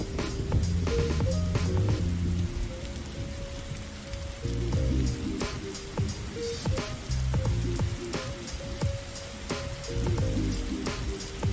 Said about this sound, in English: sit on the floor while the rain pours right in front of me